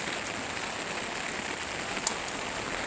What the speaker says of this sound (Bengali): দেখতে পাচ্ছ প্রচুর বৃষ্টি পড়ছে